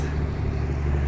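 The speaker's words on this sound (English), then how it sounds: "It's a 3-day weekend, and there's a lot of traffic." Dense road traffic on Oregon Highway 20 during a busy holiday weekend, a continuous loud roar of cars and trucks passing close by with no pauses.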